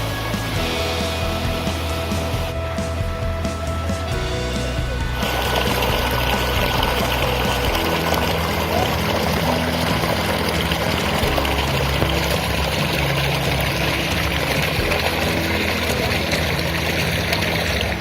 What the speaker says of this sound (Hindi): ये पानी एक्चुअली क्या है, ये भक्सु नाग वाटरफॉल है और उससे ये पानी आ रहा है।